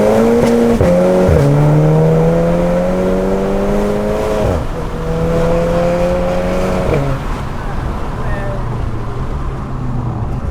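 A tuned Volkswagen Scirocco R at stage 2+, around 350 hp, accelerating hard, its loud engine note rising in pitch through several gear changes with brief dips between them, close and continuous from start to end.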